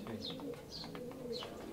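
Pigeons in a pigeon loft give soft, repeated coos with a few thin chirps mixed in, fairly quiet and close, over a low background murmur.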